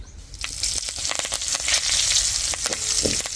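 White sesame seeds, asafoetida and curry leaves sizzle and crackle sharply in hot oil for a Khandeshi tempering, a close, loud frying hiss with popping bursts and no talk.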